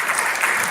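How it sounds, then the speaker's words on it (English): A brief, dense burst of audience applause at a town hall, steady clapping from a crowd. "Give Mr. Patrick Morris a round of applause."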